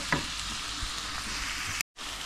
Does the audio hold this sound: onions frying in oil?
yes